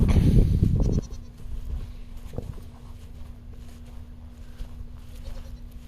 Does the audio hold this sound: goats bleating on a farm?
yes